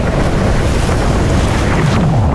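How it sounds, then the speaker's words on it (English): Squall wind and waves at sea aboard a small sailboat, the bow held into 25-knot wind; loud continuous wind roar and rushing water fill the whole stretch, with no voices. "Right now, we have a squall"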